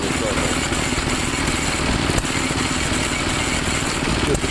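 An old-time water pump chugs along, driven by a Briggs and Stratton engine at an antique engine show; the small engine runs at a steady, even rhythm close by, continuous throughout.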